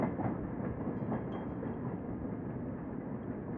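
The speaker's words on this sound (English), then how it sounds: "So this is a freight train, straight through to the docks." In the railway dispatch game Rail Route, a freight train rolls past as a steady, dense rumble with a faint rhythmic clatter, holding level for the whole stretch.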